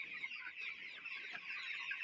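Chickens on a poultry farm cluck steadily at a low level, a continuous flock chatter with no voices over it.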